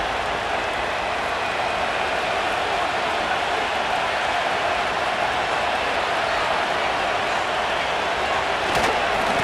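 Stadium crowd noise in the Madden NFL 25 video game at a Saints–Cowboys matchup, a dense continuous roar of cheering that stays loud and even throughout without a break.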